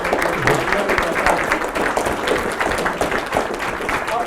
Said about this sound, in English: Let's all give Andrew a round of applause